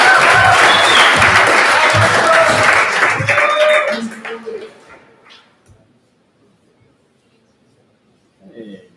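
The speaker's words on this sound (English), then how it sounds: "applause" Audience applause at a capstone showcase evening, a loud, dense burst of clapping and cheering that swells for about three seconds, then thins into scattered claps and fades to near silence.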